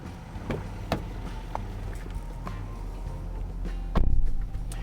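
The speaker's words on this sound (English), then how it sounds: "power sliding rear window to keep everyone happy" A power sliding rear window on a Nissan Titan XD diesel pickup hums along under a steady low cabin drone, with a few soft clicks and a louder thump near the end as it stops.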